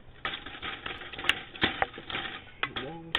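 An egg is stirred vigorously into a mixture in a bowl, making quick, irregular clicking and tapping strokes near the microphone. A voice briefly enters at the end.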